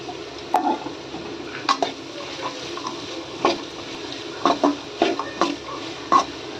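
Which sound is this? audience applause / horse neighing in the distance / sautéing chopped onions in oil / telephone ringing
sautéing chopped onions in oil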